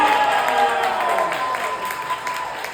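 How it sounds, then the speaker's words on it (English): Round of applause for the cast of the Wicked Dames audio drama at a live Q&A, steady clapping and a few cheers from the crowd filling the room, with some voices mixed in. "Let's give the Wicked Dames a round of applause!"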